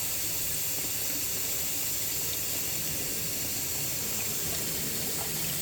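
A trailer sink tap runs cold water in a continuous, close and fairly loud hiss and splash, with no voices.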